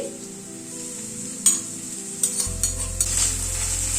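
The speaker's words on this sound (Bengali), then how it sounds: "এবার এই আদা রসুন যেটা থেতো করে নিয়েছি সেটা দিয়ে দিচ্ছি।" Crushed ginger, garlic and green chilli frying with onions in a pan for a potato dopiaza, a steady bright sizzle with a few clinks and scrapes from stirring, close and alone.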